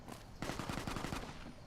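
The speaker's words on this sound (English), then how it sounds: "Well, I hear gunfire." Rapid automatic gunfire from the video game Fallout New Vegas, a fast burst of about a dozen shots lasting under a second, distant and fairly quiet.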